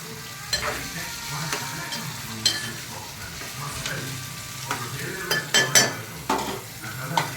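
Drumstick pieces frying in a curry pan are stirred in a steady series of scraping, clinking strokes over a continuous close sizzle, with no talking.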